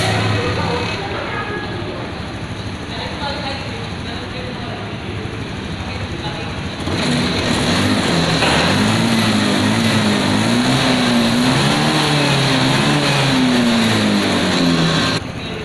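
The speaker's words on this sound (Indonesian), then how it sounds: "Kita hidupkan motornya setelah semua terpasang dengan tepat ya. Kita coba hidupkan motornya." A fuel-injected motorcycle engine idling steadily close by, a continuous rumbling drone that grows louder and rougher about halfway through, with a faint wavering tone over the top.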